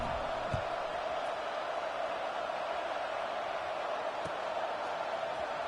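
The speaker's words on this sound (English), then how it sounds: "this crowd is buzzing after that last score" Football stadium crowd buzzing after a score, a broad steady roar of many distant voices holding evenly throughout with no break.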